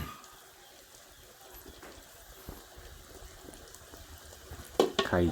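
Beaten egg frying as an omelette in hot oil, a steady soft sizzle with faint crackles throughout, rising into louder spattering pops near the end.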